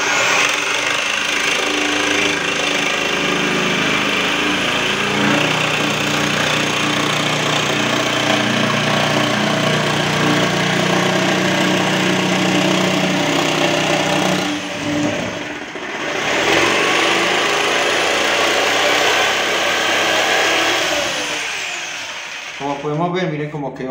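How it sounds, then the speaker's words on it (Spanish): A jigsaw cuts through a closet panel, a steady loud buzzing whine that holds for most of the stretch, dips briefly midway, then winds down near the end. "Entonces cogemos la caladora"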